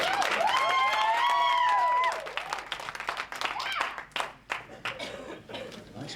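Audience applause at a Las Vegas music award show, scattered clapping and light cheering rising under talk and continuing in uneven bursts as people speak nearby.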